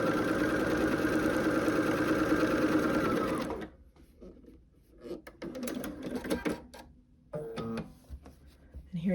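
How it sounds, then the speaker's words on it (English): A sewing machine stitching quilt pieces runs in a fast steady whir for several seconds, then stops, followed by quieter handling clicks and rustles as the fabric is moved. "Match to the corner and sew."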